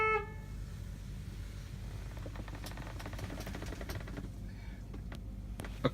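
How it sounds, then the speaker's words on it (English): A city horn on a 2014 International DuraStar 4300 box truck gives a short blast at the very start, followed by low engine rumble and interior rattles inside the cab. "City horn works."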